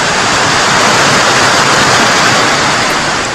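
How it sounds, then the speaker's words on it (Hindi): Floodwater in Junagadh after heavy rain pours down a flight of steps like a waterfall, a loud, dense and constant rushing roar close by with no voices. "सीढ़ियों पर पानी ऐसे बहने लगा मानो कोई ये झरना हो"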